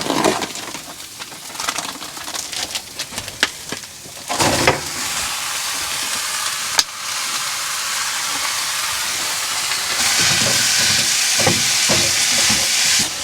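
Mince fries in a pan with browned onions, a steady loud hiss and sizzle that swells later on, with a few knocks and scrapes of a utensil near the start while camping with a caravan.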